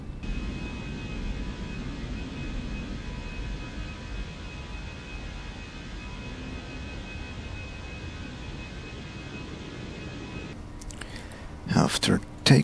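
A simulated airliner climbs after takeoff in Microsoft Flight Simulator 2024, giving a steady, moderate cabin-like engine rumble that continues until a few sharp clicks and bursts near the end.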